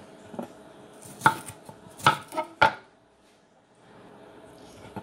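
Knife chopping red bell peppers into small sticks on a board, a few sharp separate chops spaced about a second apart, close and fairly loud, with quieter kitchen ambience between.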